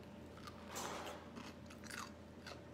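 Crunchy homemade pickle being bitten and chewed, a few moist crunches over about three seconds, fairly faint and close, with no talking.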